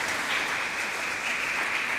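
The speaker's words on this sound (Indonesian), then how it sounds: "Salam, tepuk tangan" Dense, steady applause from a church congregation at a first communion Mass, a continuous wash of many hands clapping at even loudness for the whole stretch.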